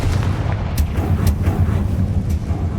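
A Confringo explosive spell in Hogwarts Legacy going off, a loud rumbling blast with a few sharp cracks layered over a continuous low boom.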